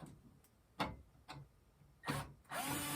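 Power drill working on the plastic covers of a Schwinn elliptical machine, with short separate bursts followed by a longer, steadier whir at the end, close and fairly quiet.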